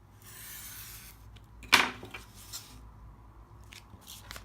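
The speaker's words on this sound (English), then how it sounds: "take your ruler and your knife and cut it right and clean" A craft knife is drawn along a ruler through a vinyl laptop sticker, giving one sharp, close slicing scrape amid quiet handling noises and faint rustles.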